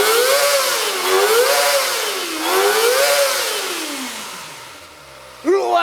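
A Kawasaki Ninja ZX-25R four-cylinder engine screams close by as it is revved repeatedly to its 17,000 RPM electronic limiter, rising and falling in high-pitched waves, then dropping off before one more sharp blip.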